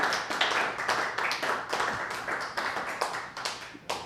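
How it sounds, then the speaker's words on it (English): Small meeting audience at an ARSC New York chapter gathering gives a modest round of applause, a thin patter of separate hand claps from a few people with a rhythmic, slightly uneven pulse, fairly close and on its own. "applause for this."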